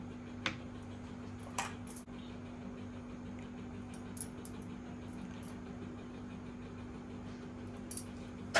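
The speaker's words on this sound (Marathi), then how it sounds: "बर्फाचे तुकडे घालूया" A few light clinks and taps of ice against glass, sparse and faint, spaced over a quiet steady background hum.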